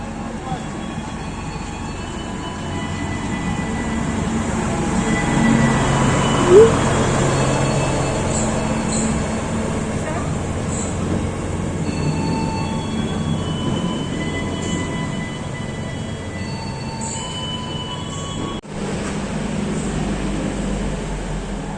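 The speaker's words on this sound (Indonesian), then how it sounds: "kereta apinya sudah datang" A passenger train on the Minangkabau Express arrives at a station in Padang, rumbling steadily through a long stretch, with low mechanical drone and occasional squeals and clanks, people talking faintly in the background.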